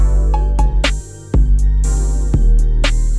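A programmed beat plays dry and unprocessed, sharp snare and drum hits landing in a steady groove over sustained bass and tonal layers, with a brief dropout near the middle before the pattern resumes.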